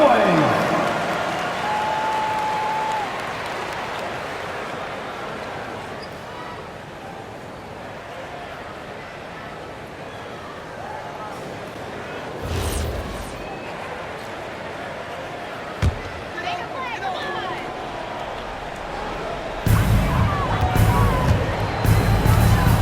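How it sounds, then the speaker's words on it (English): A large video game arena crowd in NBA 2K roars and cheers continuously, with a swelling burst near the end; talk runs underneath the noise. "Please give a big round of applause"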